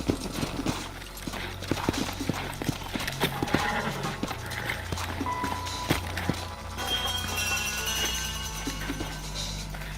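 Horses walking in the Red Dead Redemption video game, steady clip-clop hoofbeats with occasional whinnies over a dense ambient music and effects bed, with a brief voice in the mix.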